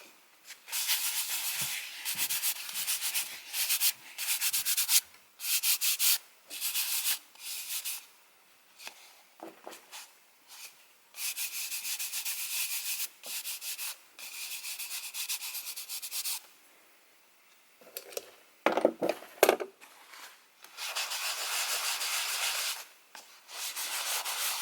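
A surface burnished by hand during an art project, heard as loud, close, gritty rubbing strokes in rhythmic bursts separated by short pauses, with a few softer taps near the end.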